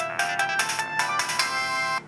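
An LG GS155 phone speaker plays the Space Ball game's sounds: bright, tinny electronic beeps and tones in quick bursts, close and loud, ending abruptly, with no talk.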